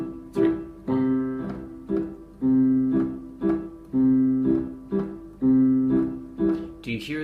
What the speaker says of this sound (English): So if we did a kind of oompapa, which would be for 3/4